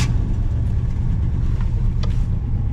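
A 1966 Pontiac Grand Prix barn find sits running with a low, rough engine rumble that stays steady and close, with a couple of faint knocks in the background.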